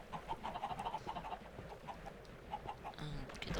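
Chickens in Minecraft cluck repeatedly, a busy overlapping run of short calls from an egg farm, fairly close and steady throughout with no talking.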